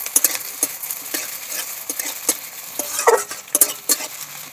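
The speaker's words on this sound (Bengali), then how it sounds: "দিয়ে দেবো কুচনো পেঁয়াজ। পেঁয়াজটা লাল লাল করে ভেজে নেব।" Chopped onion frying in hot mustard oil gives a soft, crackling sizzle broken by sharp clinks of a spoon stirring against the pan, with no talking.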